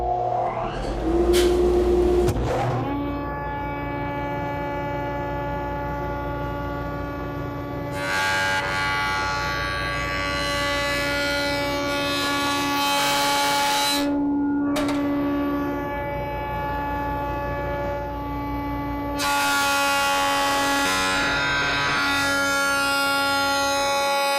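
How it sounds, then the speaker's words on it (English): A wood jointer motor hums steadily with strong harmonic tones while a workpiece is fed face down against the fence, the cutting pitch rising and falling in two long passes, loud and close with no talk. "now I'll go ahead and run it through"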